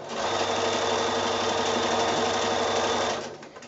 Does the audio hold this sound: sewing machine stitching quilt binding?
yes